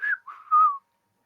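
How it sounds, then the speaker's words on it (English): A human whistle during a paranormal investigation at a site in Somerset, UK: three short clear tones, a rising note then two lower sliding ones, loud and close against silence. "And then we got whistled at,"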